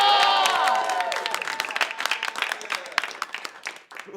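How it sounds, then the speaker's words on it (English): Comedy show audience clapping and cheering for a comedian, loud applause with whoops and tonal shouts at first, thinning into scattered claps that fade over about four seconds. "Please let him hear you now. Clap it up."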